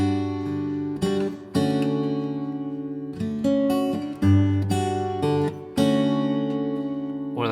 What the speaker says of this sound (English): So today we're doing major 7 chords